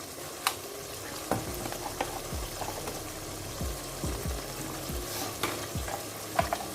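Bhindi chicken fries with turmeric, salt and spices in a pan, a soft steady sizzle broken by repeated scraping knocks of a spoon stirring at an uneven rhythm, close by.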